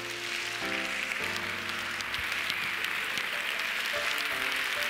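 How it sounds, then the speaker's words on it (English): A church congregation claps hands in praise during a service, a dense, steady wash of clapping that fills the room, with sustained music tones running underneath throughout. "Give God a hand clap of praise in this house."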